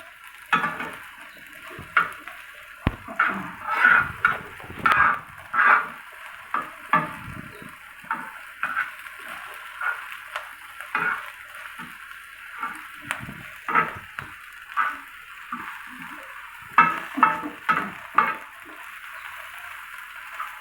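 An omelet fries in a pan on the stove, a steady crackling sizzle with scattered clicks and scraping stirs as it is turned and cooked on the other side.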